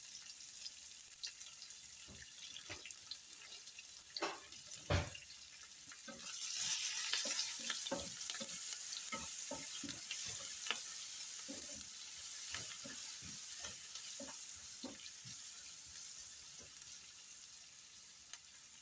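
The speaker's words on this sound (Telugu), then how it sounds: "ఉల్లిపాయలు అయితే వేగేయండి." Sliced onions fry in a pan with a steady hiss and crackle, joined by repeated light scrapes and clicks of stirring, close but fairly quiet with no talking.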